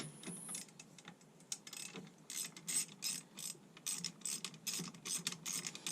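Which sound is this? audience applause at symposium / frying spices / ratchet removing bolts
ratchet removing bolts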